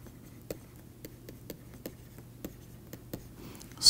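During a mathematics lecture, chalk or a marker writes on a board with soft, faint strokes and light taps at a steady pace, quiet and fairly close, with no talking.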